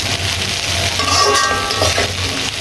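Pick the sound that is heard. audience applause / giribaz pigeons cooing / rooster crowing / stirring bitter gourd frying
stirring bitter gourd frying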